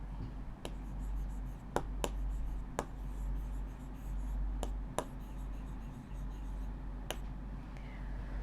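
Numbers being written by hand with a pen or marker during a maths lesson, giving faint scratching strokes and sharp little taps spread through the clip over quiet room hum.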